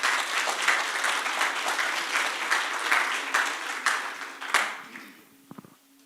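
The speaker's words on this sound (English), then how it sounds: "please give a round of applause for them" Audience applause for team VVest, first runner-up at the Hospiton 2025 final pitch session: a dense, even round of clapping from a crowd that tapers off and dies away over the last second.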